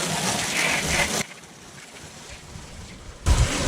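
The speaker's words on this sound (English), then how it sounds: "We'll rinse off all of our windows to loosen off that dirt." A garden hose sprayer rinsing outdoor windows, a hissing spray that runs for about a second, cuts off, and then starts again near the end.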